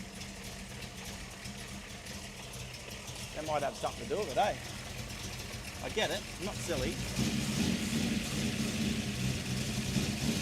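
A car engine idles and rises a little in revs inside a workshop, a low steady rumble running under a voice as he talks.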